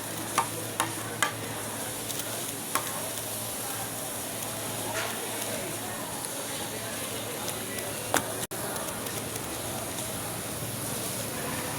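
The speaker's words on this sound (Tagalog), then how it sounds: "Konting gatas lang at haluin na natin." A spoon stirring a sizzling pan after a splash of milk goes in, giving a steady hiss with occasional light clicks against the pan over nearly twelve seconds, close up and without talk.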